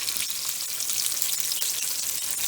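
Hot Cheetos–coated pickles deep frying in oil, giving a steady, loud crackling sizzle with dense bubbling that holds evenly throughout, close up and with no voices over it.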